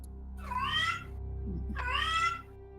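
A human voice imitating an angry cat gives two drawn-out, wavering yowls, close and fairly loud, with a brief pause between them over a steady low hum.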